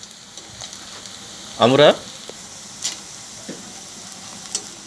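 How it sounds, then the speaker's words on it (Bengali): Chopped ingredients sizzle steadily in a pan for a duck curry made with coconut milk, a continuous close frying hiss with light stirring ticks and one brief spoken word. "কুচি আমরা কিছু সময় ধরে ভেজে নিব"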